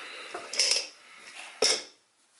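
A Hoover Constellation Model 84 vacuum cleaner is opened, giving a couple of sharp mechanical clicks and latch snaps, close and fairly quiet, with faint handling rustle between them.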